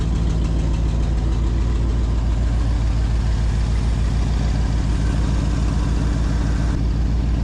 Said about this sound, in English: So this engine's pretty tired